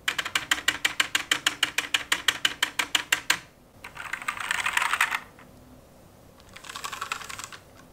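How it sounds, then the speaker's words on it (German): An unmodded mechanical keyboard with no stabilizers clacks in a fast, even run of loud, sharp keystrokes for about three seconds, followed by two bursts of softer, rattling hiss-like typing noise. "Und Tastaturen, die eigentlich gar nichts innehaben, also weder Stabilisatoren noch irgendwelche Mods, whatever, klingt dann so."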